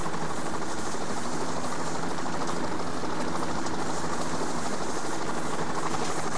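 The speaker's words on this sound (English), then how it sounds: "Helicopter insertion. SWAT's coming in." A helicopter arrives during a heist in the video game Payday: The Heist, its rotor and engine roar loud and steady throughout, with no voices.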